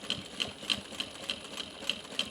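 A sewing machine back stitches fabric for a makeup pouch at a lengthened stitch, giving a steady, rapid mechanical ticking of evenly spaced needle strokes, close and clear.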